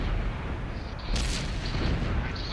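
A tank cannon fires in World of Tanks, a loud heavy boom over a continuous low battle rumble, followed by a sharp crack-like burst partway through.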